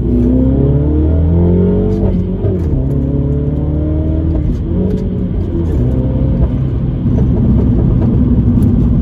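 A 2016 Mini John Cooper Works F56 accelerating hard, its engine loud and close, rising through the revs, dipping at a gear change, then climbing again with a deep rumble.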